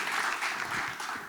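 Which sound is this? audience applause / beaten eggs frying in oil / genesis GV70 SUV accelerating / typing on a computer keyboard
audience applause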